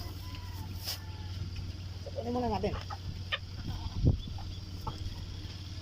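A chicken gives a short run of soft clucks over a steady low hum, with a person speaking briefly and faint farmyard background noise.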